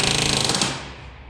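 A rivet gun hammers a rivet during restoration of a CAC Boomerang fighter plane, a loud rapid burst of metallic blows that stops abruptly and rings out into fading echo.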